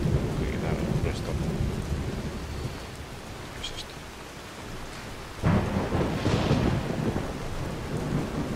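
Glitched lightning and thunder rumble in Skyrim Special Edition, with steady rain hissing throughout and a loud thunderclap breaking in partway through, then rolling on.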